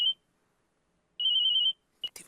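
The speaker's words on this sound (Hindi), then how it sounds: "भाभी जी का फोन।" A telephone rings in short electronic bursts, a brief chirp, a pause, then a longer warbling ring, followed by a couple of clipped chirps, clear and alone against near silence.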